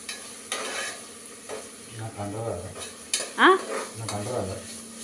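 A spoon stirs mutton curry in a pan with soft scraping and clinks over a low sizzle, including a sharper metallic knock midway, faint and close.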